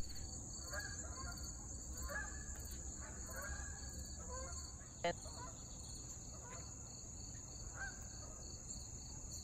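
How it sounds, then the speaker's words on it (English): Distant honking of geese repeating through a steady high chirring of insects, with a single sharp knock midway. "I saw the first flock of geese going."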